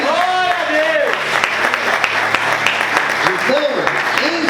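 A church congregation claps along during a worship service, the steady applause mixed with a preacher's amplified voice calling out over it and crowd murmur beneath.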